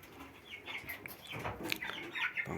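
Broiler chickens in a poultry house cluck and chatter softly, with scattered calls rising over a faint background of barn noise.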